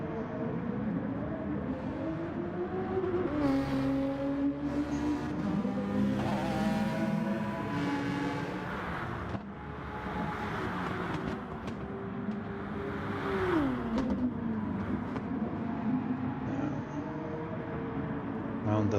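Race car engines from Gran Turismo Sport, running at the Red Bull Ring during an online Nations Cup race, sustained and rising and falling through gear changes with shifting pitch, heard under continuous commentary.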